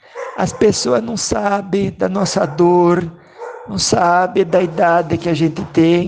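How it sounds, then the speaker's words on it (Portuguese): A dog barks several times in the background while someone speaks Portuguese over it, the yips and barks rising between and under her words. "Olha o cachorro latindo aqui de novo"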